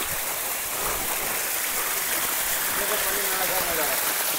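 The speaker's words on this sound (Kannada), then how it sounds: "ऊपर से पानी आ रहा है क्या?" Water pouring down a stream in a dense northeastern forest, a steady, loud rushing wash filling the whole clip without pause.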